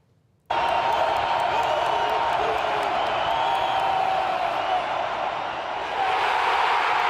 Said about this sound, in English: Oh, that cheering.